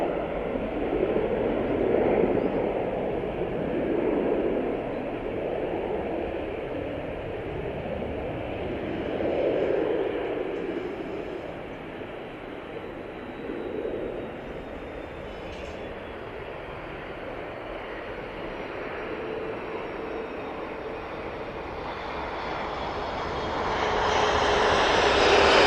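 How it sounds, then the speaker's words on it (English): An Aer Lingus airliner jet passes at Manchester Airport, its engine roar swelling and fading over a long stretch before building again near the end, distant and broad with no voices. "Here comes the Aer Lingus."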